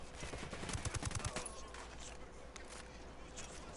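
Gunfire in Ghost Recon Wildlands, a quick burst of rapid shots early on, then quieter scattered reports and ambient game noise, with talk faintly mixed in.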